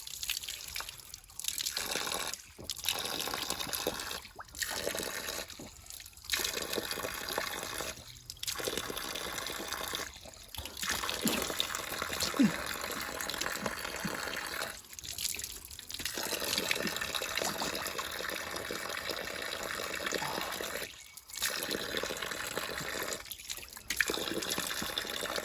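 Water trickles and splashes steadily below a hiking trail, a continuous watery rush with no voices.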